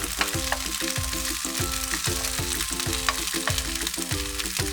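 Sage leaves and a block of butter sizzling in a hot pan for a tortellini finishing sauce, a steady bright frying hiss under a repeating rhythmic tonal pattern of background music.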